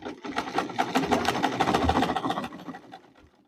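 Sewing machine stitching dress fabric with a rapid, rhythmic needle chatter that runs close and steady for about two and a half seconds, then slows and fades out.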